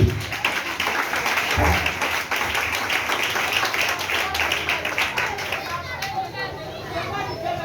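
Congregation clapping in a church service, steady dense applause with rhythmic claps and crowd chatter mixed under voices throughout.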